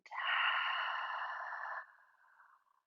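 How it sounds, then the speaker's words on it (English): A deep open-mouthed 'ha' exhale during a gentle vinyasa yoga breathing exercise, one long airy breath, loud and close for nearly two seconds, then tapering into a fainter trailing breath. "Exhaling fully. Make the ha sound."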